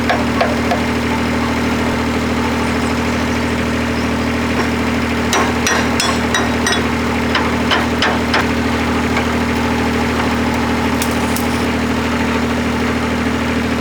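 Concrete mixer motor humming and knocking steadily while the drum stays still, a constant low idle drone with sharp metallic taps and clatter in the middle and toward the end.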